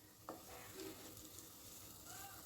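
Green chilli, garlic and ginger paste sautéing in a pan for dum aloo gives a faint, steady sizzle that runs throughout, with occasional soft scraping from stirring and no talk.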